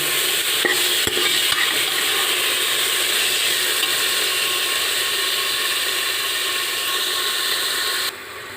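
A tadka of black pepper, salt, chili and turmeric sizzles in hot oil for a green chickpea kadhi, a loud steady hiss with a few faint clicks that drops suddenly near the end.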